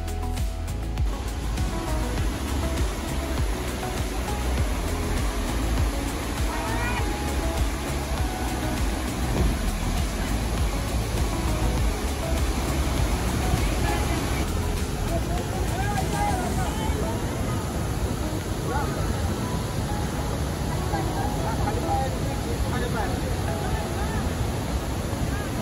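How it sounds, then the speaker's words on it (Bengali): Hundru waterfall, where the Subarnarekha river plunges about 322 feet in monsoon flood, gives a loud, steady, broadband roar of falling water with wind buffeting the microphone throughout. "সুবর্ণরেখা নদী এখানে প্রায় 322 ফুট ওপর থেকে নিচে ঝাঁপিয়ে পড়ছে এবং সৃষ্টি করেছে এই জলপ্রপাতের।"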